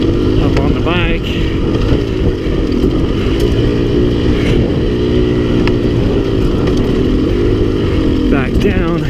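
A dirt bike's engine drones and revs continuously while climbing a hill, loud and close throughout, with a voice briefly heard.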